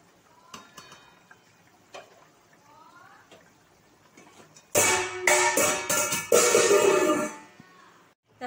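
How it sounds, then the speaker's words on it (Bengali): Katla fish pieces dropped into a simmering potato curry for a light fish jhol, a burst of loud splashing, clattering and bubbling in a pot after a quieter stretch with a few faint clinks. "এবার আমি মাছগুলো দিয়ে দেবো এর মধ্যে।"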